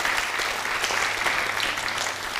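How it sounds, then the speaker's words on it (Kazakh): A studio audience on a Kazakh talk show bursts into dense, sustained clapping, loud and even throughout with no talk over it. "Рахмет, шапалақ ұрып қойсаңыздар болады."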